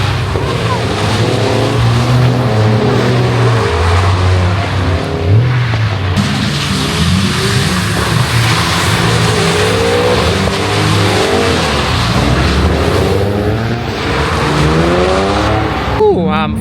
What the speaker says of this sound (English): All day, all night, drifting, man.